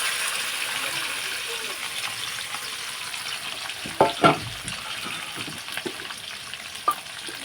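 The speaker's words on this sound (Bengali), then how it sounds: "সেই মাংসটা এখন আমি এই তেলের মধ্যে দিয়ে দেব" Mutton sizzles steadily in hot oil, a continuous crackling fry with a few stirring clunks from the pan partway through.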